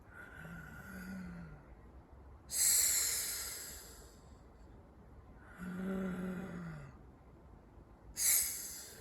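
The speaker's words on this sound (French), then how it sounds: "La respiration est donc vocale au niveau de la gorge." Slow, audible breaths drawn through the throat, hissy inhales alternating with voiced, raspy exhales in an unhurried rhythm, quiet and close.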